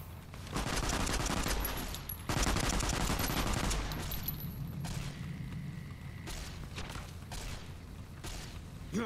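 Rapid gunfire in the Fallout: New Vegas video game, dense bursts of shots and booms crowding the whole stretch, loud and close, with brief pauses between volleys.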